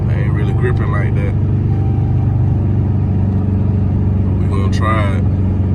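A Dodge Charger SRT8 with a manual gearbox cruises down a wet highway with its window down, a steady loud engine and road drone under heavy wind buffeting, with brief voices talking near the start and end.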